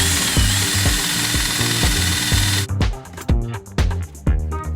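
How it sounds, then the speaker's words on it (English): Power drill boring a hole through a van panel, a steady broadband whir at first that breaks into several stuttering bursts and ratcheting catches as the bit works through, close and loud with no talking. "now it's time to drill a hole in one of these panels"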